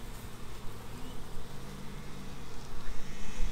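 Honey bees humming at an opened hive as the excluder is lifted off, a continuous swarm drone with handling noises and rises in loudness toward the end.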